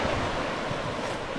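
Rushing water at a creek crossing on a muddy bush hike in Queensland, a loud, dense, steady wash of flowing water close by, with no voices over it.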